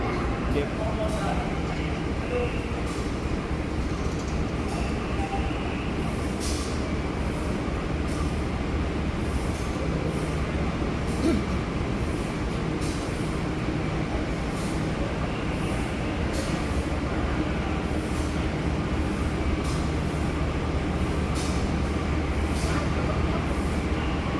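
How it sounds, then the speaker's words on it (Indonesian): Progo passenger train with new-generation stainless steel carriages, hauled by a vintage locomotive, rolls in a steady, continuous rumble of wheels and carriage noise heard from onboard, with voices faintly present throughout. "perjalanan perdana kereta api Progo dengan rangkaian stainless steel new gen"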